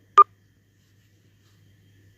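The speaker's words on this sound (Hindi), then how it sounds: "बीप प्ले करेगा। आप लोगों ने इसको सुनना है।" Single short electronic beep from an Android phone's accessibility setting, clear and isolated, followed by near silence.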